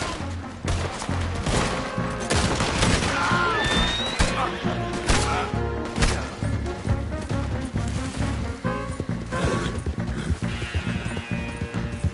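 Red Dead Redemption gunfire in a shootout, many sharp rifle and pistol shots cracking in rapid, irregular bursts alongside galloping hoofbeats over about twelve seconds, loud and close, with voices shouting at points.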